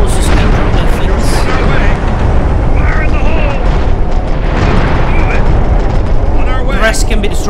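Explosions rumble and boom continuously as buildings are destroyed in Empire Earth 2, a World War II North Africa and Sicily 1943 battle, with dense low-end roar and scattered crashes and debris throughout, loud and sustained.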